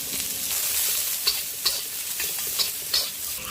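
Tuna chili paste being stir-fried in a pan, a steady close sizzle with several sharp scrapes and clinks of the utensil against the pan, no talking.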